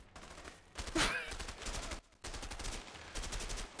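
Gunfire in the video game A Way Out: a dense burst of rapid shots near the start, then continuing crackling fire with a brief gap, loud and close.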